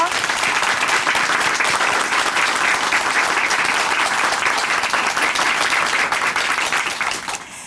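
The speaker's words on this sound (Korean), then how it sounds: "다시 한번 큰 박수 보내드릴게요" Sustained, dense applause from a large church audience, loud and steady throughout, tapering slightly at the very end.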